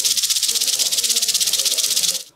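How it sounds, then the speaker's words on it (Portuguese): A rattlesnake rattle shaken in a rapid, steady buzzing hiss, loud and close, continuing evenly for about two seconds before trailing off, with no other sounds. "No seu ateliê é possível encontrar um guiso de cascavel"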